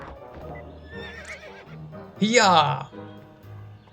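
A horse whinnies loudly in the video game To The Moon, a rising, wavering neigh over soft hoof clops and quiet game music, with someone speaking briefly before it.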